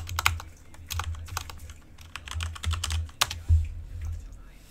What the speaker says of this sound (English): let's type ipconfig